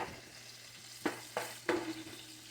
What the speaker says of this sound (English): What I've done was added some thyme to the Brussels sprouts. And now I'm just going to mix it and flip.